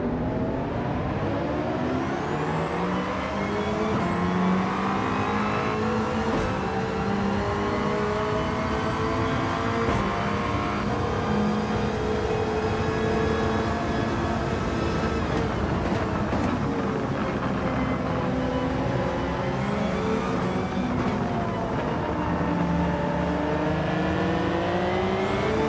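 Race cars bunched together on track in Gran Turismo 7, engines whining and revving continuously with shifting pitch sweeps as cars accelerate and pass, a loud steady drone with brief gear-change dips, no talking.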